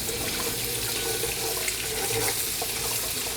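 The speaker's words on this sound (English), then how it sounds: "we're just gonna run it under water and try to take out all of this peel from it" Tap water running steadily over roasted, peeled poblano peppers in a kitchen sink, a close, continuous splashing rush with no talk.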